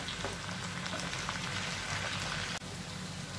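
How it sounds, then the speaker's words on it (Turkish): Chopped tomatoes go into a pan of fried mince with tomato paste and sizzle as a steady, dense crackling hiss, close and loud throughout, with no talk. "Ve doğramış olduğum domatesimi ekliyorum."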